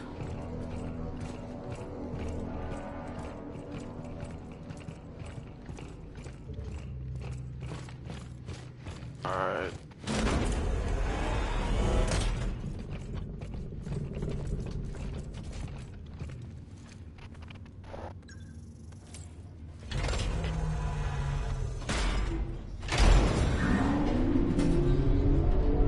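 Elevator machinery grinds and creaks in the Callisto Protocol video game, a steady mechanical whir and ratcheting that swells into heavier clanking roars later.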